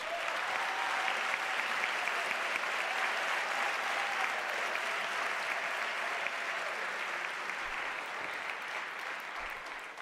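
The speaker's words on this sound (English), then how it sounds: "let us give the graduates a firmer round of applause" Sustained applause from a large crowd at a university graduation ceremony, steady and dense throughout, with no voices standing out.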